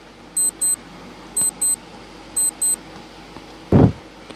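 A quiz countdown timer sounds three pairs of short electronic beeps spaced about a second apart, then a brief louder thump near the end, over a quiet background.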